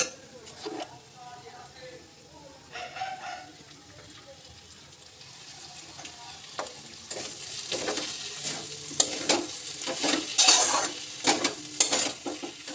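Grated carrots fry in ghee in a wok and are stirred, soft sizzling with scraping and clinking of the spatula that grows louder and busier toward the end, with a voice speaking now and then.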